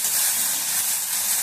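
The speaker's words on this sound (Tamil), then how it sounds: "இப்போ இந்த தக்காளி வெங்காயம் போட்டு வதக்கலாம்." Tomato and onion sauté in a hot pan, giving a steady, soft hiss and sizzle heard up close, with no talk.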